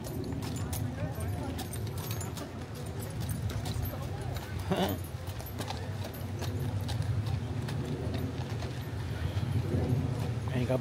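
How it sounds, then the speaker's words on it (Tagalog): Horses clip-clop steadily while towing a canal boat on the Llangollen Canal, hoof beats blending into a continuous outdoor wash with people talking throughout. "Ay, yung mga kabayo, sila yung mga humihila."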